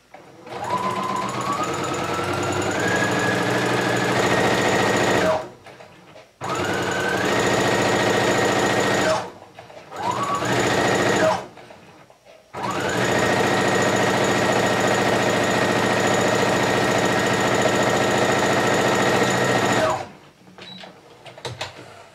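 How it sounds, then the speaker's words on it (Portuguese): A sewing machine joins two pieces of fabric for a cloth garland, running in four loud bursts that ramp up to a steady whir, with brief pauses between runs and a long final stretch. "Um pé de máquina aqui pra emendar os dois tecidos."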